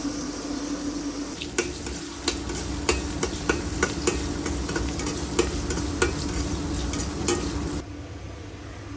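Bitter gourd with a piece of potato frying in a pan on a gas cylinder stove, a steady close sizzle broken by repeated sharp stirring and scraping clicks throughout, with no talking.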